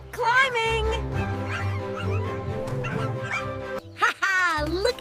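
Cartoon puppies bark, yip and whimper in playful, high-pitched bursts over musical backing, several yelps in quick succession with a brief pause before more barking.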